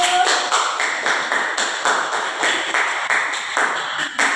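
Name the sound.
class applause for group 1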